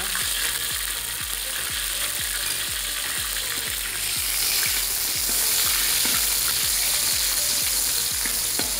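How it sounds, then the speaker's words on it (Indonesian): Spice paste sizzles and crackles as it is stir-fried in a pan for a jalang kote pastel filling of sweet potato and carrot. The frying hiss is loud and constant, with soft scraping of stirring throughout and no voices. "Oke teman-teman, selanjutnya kita tumis bumbunya."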